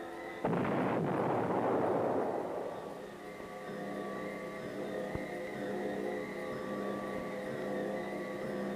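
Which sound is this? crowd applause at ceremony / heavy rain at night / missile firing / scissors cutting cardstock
missile firing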